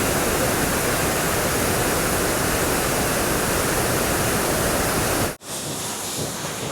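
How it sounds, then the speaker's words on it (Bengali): Lodh Falls near Netarhat roars as a dense, steady wall of rushing water, loud and close, with a brief sharp dropout near the end before the roar resumes. "বিভৎস জলপ্রপাত, বিভৎস।"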